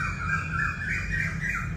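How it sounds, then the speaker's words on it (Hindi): Birds squawk outdoors in Mehsana, Gujarat, a run of harsh, wavering calls over a low rumble of background noise, fairly near and continuous for about two seconds. "और यहाँ पक्षियों की चहचहाहट आप सुन सकते हैं।"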